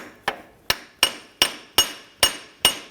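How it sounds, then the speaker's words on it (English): Seven sharp metallic hammer blows strike a brass punch against an alternator bolt on a 2011-2015 Kia Sorento 2.4L, spaced about every 0.4 seconds, loud and close with ringing decays and no talk. "I'm going to go ahead and use my brass punch here."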